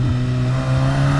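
A tuned 2019 VW Jetta GLI 2.0 turbo engine roars loud and close during a launch in a parking lot, holding a steady, droning pitch as it revs under load; no voices.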